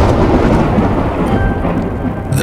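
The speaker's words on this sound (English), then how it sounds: "The thunder." Thunder rumbles steadily with rain, a dense broadband roar that stays loud and unbroken throughout, with no voices.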